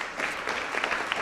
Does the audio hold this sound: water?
no